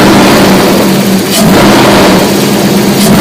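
A Porsche 928 V8 engine revs steadily and loudly up close, with a dense continuous roar, a brief dip partway through, then sustained throttle again.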